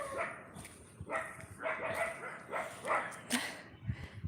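A puppy at a neighbouring house barks and yips repeatedly from a short distance, several sharp bursts in quick succession, fairly faint.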